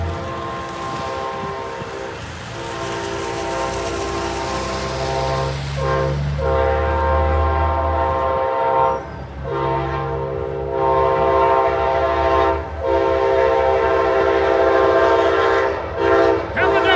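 The westbound Sunset Limited No. 1 passenger train passes East Bernard on a rainy night, sounding loud, sustained horn blasts close by over the heavy rumble of the passing train throughout.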